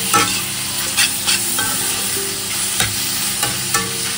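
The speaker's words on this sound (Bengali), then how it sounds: "এবার চিকেনটা দিয়ে দিলাম। চিকেনটা দিয়ে এবার একটু ভাজা করি" Chicken pieces frying with softened onion in a pan, loud close sizzling under repeated spatula stirs and scrapes that knock at irregular intervals, with no talk.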